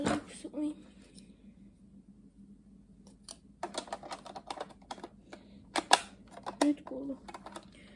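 A plastic Schleich toy door is pressed into place on a toy building, giving a scattered series of small sharp clicks and taps, close and fairly quiet, with near silence between some of them.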